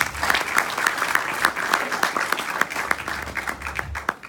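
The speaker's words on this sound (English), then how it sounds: "Can we have a round of applause for him, please?" An audience at an evening lecture applauds the guest speaker, a dense, steady round of clapping with distinct individual claps standing out, filling the room.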